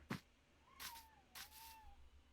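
A pet cat meows twice in drawn-out, rising-then-falling cries, close and fairly loud, after a short knock or thump at the start, with no talking over it.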